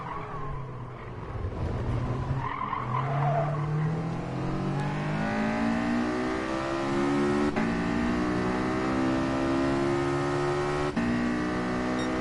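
A race car engine screams through rising gear pulls at Laguna Seca in a Gran Turismo racing game, with tire squeal early, loud and continuous, shifting up in pitch several times.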